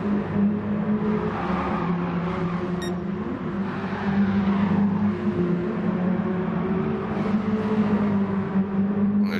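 Touring race cars in a sim racing game roar in a steady, dense pack, engine drone holding throughout with slight swells as cars jostle and pass, no talking over it.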